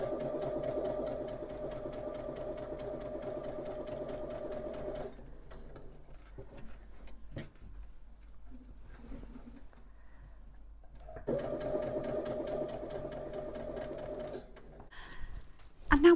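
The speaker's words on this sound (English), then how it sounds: "I'm going to do it on the sewing machine and then test them." A sewing machine stitches patchwork wrap pants in two long runs, a fast even mechanical whir with a rapid needle rhythm, stopping for a quiet pause with faint handling sounds between bursts.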